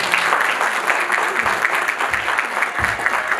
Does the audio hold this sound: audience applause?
yes